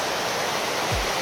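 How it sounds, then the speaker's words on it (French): A river rushing through open countryside at dusk, its steady broadband flow filling the scene close and loud, with a brief low thump near the end and no voices. "au milieu de la nature, avec la rivière franchement"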